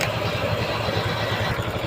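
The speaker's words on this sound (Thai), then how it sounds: "เร่งเครื่องได้ เร่งเครื่องขึ้น" A Honda Wave 125i motorcycle engine runs loud and close during a charging-system check with the battery removed, holding a steady, buzzing drone with slight clatter throughout.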